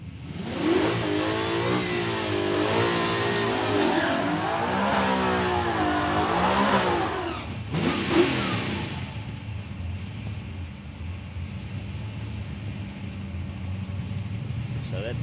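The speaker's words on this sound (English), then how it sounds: "So that distinct sound of a supercharged Coyote engine." A supercharged Coyote-engined Mustang accelerates hard down a drag strip at Palmyra Raceway, its loud engine note rising and falling through gear changes before fading, with a commentator talking over it.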